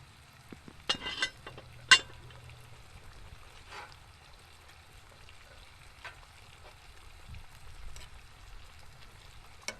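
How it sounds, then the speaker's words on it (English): A spoon stirs low-carb chili in a pot, giving faint scraping and clinking with a soft sizzle, a few sharper knocks near the start and quiet background noise throughout. "We'll stir our low-carb chili."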